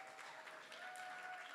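An audience at a grant celebration for local musicians at a Seattle music venue applauds steadily, a dense wash of many hands clapping with faint cheering mixed in, heard from some distance.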